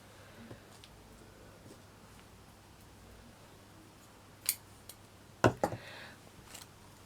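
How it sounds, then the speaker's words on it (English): Scissors snip craft material for a Christmas village model, a few sharp, quiet clicks and cuts spaced out over a faint, steady background hum. "So I'm just going to snip so many off."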